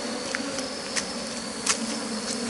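Honeybees drone in a steady, dense buzz around an opened beehive being worked with a smoker during honey harvesting, a close continuous hum with a few individual bees zipping past.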